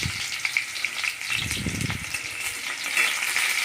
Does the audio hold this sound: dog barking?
no